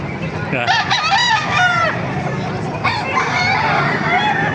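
Roosters crow loudly in harmonic, rising-and-falling calls, two or three in succession, with clucking and a busy barnyard murmur underneath, at a chicken market in Baliuag, Bulacan, Philippines.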